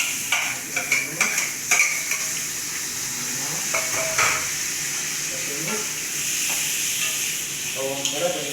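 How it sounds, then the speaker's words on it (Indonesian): Garlic and shallots stir-fried in a pan over low heat, a steady sizzle with clinking utensil scrapes and taps, some louder knocks early on, and brief voices in the background. "Sekarang kita menggoreng atau menumis bawang putih dan bawang merah."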